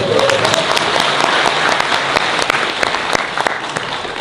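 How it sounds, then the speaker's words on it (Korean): Loud, dense applause from a crowd at a political forum rally, continuous for a few seconds with no speech over it. "박수 한번 치시죠?"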